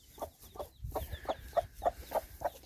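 A hen in a coop with her chicks clucks softly in a steady rhythm of short, evenly spaced clucks, heard close but quietly.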